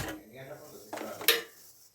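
A metal kadai pan is set down on a gas stove in a home kitchen, making two quick clanks and scrapes, close and fairly sharp, just before frying.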